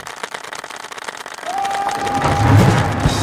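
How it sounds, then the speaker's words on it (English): Clapping from a soundboard during an online forum call: scattered claps at first, then a denser burst of canned applause and crowd noise that builds louder toward the end, with a brief tone running through it. "start spamming the clapping soundboard"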